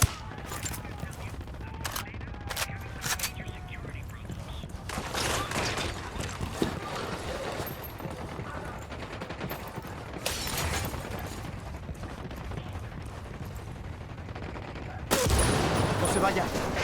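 Gunfire from Ghost Recon Wildlands, with scattered shots and bursts cracking through a busy battle scene, one louder blast near the end, all over a constant roar of background noise.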